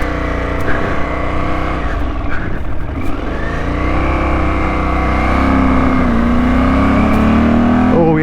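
Loud close engine noise from a 1981 Honda CX500 motorcycle builds as the motor is revved, its pitch sliding upward and holding high near the end.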